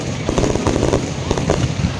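Fireworks bursting in rapid succession at a fireworks show, a dense, loud crackling barrage with overlapping pops and booms throughout.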